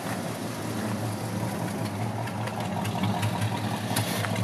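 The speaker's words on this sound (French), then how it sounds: "un moteur qui tourne régulièrement" A 1969 Mercury Cougar V8 idles steadily at close range, a smooth continuous rumble with an even beat and no talk over it.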